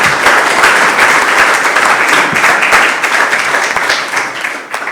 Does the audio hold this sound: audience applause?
yes